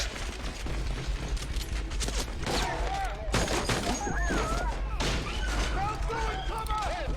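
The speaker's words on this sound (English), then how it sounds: "They're just shooting everyone." Shootout gunfire from a TV drama's ranch raid in Nevada, a dense burst of shots and crashes running throughout over a steady low rumble, with several people's voices shouting in the mix.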